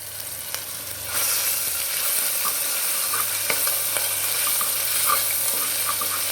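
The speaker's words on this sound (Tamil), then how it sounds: "அது இஞ்சி வெள்ளைப்பூடு பேஸ்ட்டு, இதை நல்லா வதக்கிக்கோங்க." Ginger garlic paste sizzles and fries steadily in a pan at moderate volume, with occasional stirring scrapes and small pops, and no talking.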